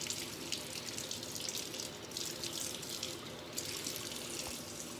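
Tap water runs steadily into a sink during hand washing in a home kitchen, a soft continuous splashing with faint drips, heard close and quiet.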